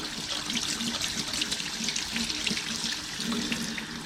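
Water from a tap rinses a K&N air filter during cleaning, a steady close splashing wash with broadband hiss running unbroken throughout.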